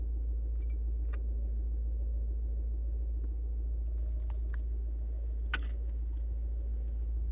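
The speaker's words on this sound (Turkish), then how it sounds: "Evet, aracı çalıştırdık." A car engine idles steadily just after being started, a constant low hum with faint ticks and a brief click near the end, heard alone without talk.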